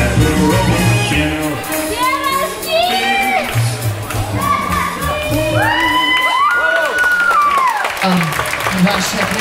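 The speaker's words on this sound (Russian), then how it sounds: "Ваши аплодисменты." An audience at an open-air Pro-Am ballroom dance competition in Kyiv cheers, whoops and applauds a dance couple. The crowd noise is loud and continuous, mixed with music and shouting voices.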